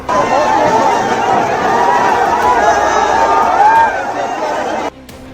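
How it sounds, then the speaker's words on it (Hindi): Protest crowd carrying tricolour flags on Patna streets during a march, a dense continuous roar of many voices and movement at steady loud level, dropping off near the end. "पटना की सड़क पर प्रदर्शन और तिरंगे से पटी ये भीड़।"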